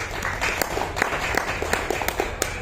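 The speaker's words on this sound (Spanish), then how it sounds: "Fuerte los aplausos para ella." An audience at a book fair in Lima applauds for a woman, a steady patter of clapping with a few distinct sharp claps standing out near the listener, moderately quiet and without talk.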